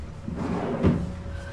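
A cabinet drawer in a closet under construction slides open and shut, one soft rolling rumble ending in a dull thump, close and quiet with no talk.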